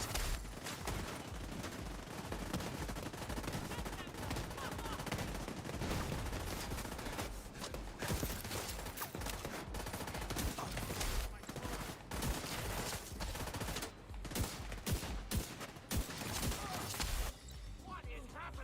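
Sustained rapid gunfire from The Division 2, loud and dense bursts of automatic shots running nearly throughout, with voices talking over the shooting and brief lulls near the end.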